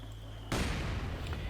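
An armored car opens fire in the strategy game Company of Heroes 2, a single abrupt, heavy blast that breaks through a quiet battlefield hum and rumbles on briefly.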